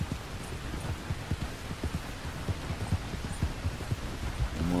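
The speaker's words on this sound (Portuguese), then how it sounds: "Se liga nessa chuva, velho." Steady rain in the open-world Western game Red Dead Redemption II, a dense continuous wash under a horse's hooves clopping rhythmically through the downpour, with no talk.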